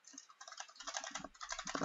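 Computer keyboard keys are pressed hard during play of the game Gold Rush, a rapid, uneven clatter of close, crisp keystrokes with no talking over it.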